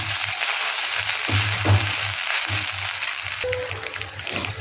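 Cooked rice and vegetables fry in a hot pan, steady crackling sizzle broken by scraping and stirring thumps, a short tonal clink partway through.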